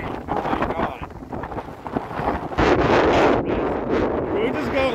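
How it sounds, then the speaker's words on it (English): Strong wind buffets the microphone in loud, rushing gusts outdoors at a trolleybus stop, with people talking and exclaiming over it. "And it is windy!"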